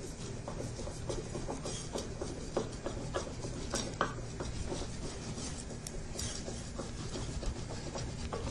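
Knife sawing horizontally through a layer of a two-tier birthday cake, a steady close rasping scrape with small ticks running throughout.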